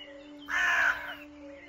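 A single crow caws in the horror game The Nanny. The harsh, raspy call comes once and lasts about half a second. It rises loudly over a steady low hum of game ambience.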